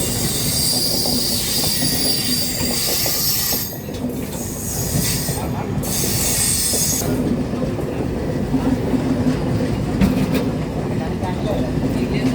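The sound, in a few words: Shalimar Trivandrum Express train at Tiruppur station platform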